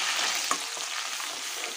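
Tomato and onion paste hits hot oil for egg curry, a brief burst of dense, hissing frying noise with a single small pop, heard close up.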